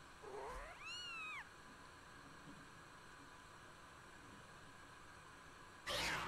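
A cat meows in The Legend of Zelda: Skyward Sword, a single clear rising-and-falling cry over a quiet background hum, followed later by a short burst of noise.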